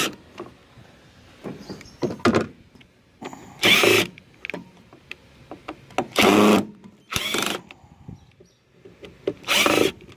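A cordless screw gun fitted with a Phillips bit backs screws out to free blades while scrapping, with short loud whirring bursts of about a second each, set apart by quieter handling clatter and tool contact.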